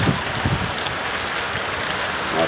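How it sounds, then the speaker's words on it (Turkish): A sudden summer rain shower falls in Adana on 21 June, a dense, steady hiss of drops on surfaces filling the air, loud and close with no voices over it. "En uzun günün yaşandığı şu saatlerde güzel Adana'mıza yağmur da başladı"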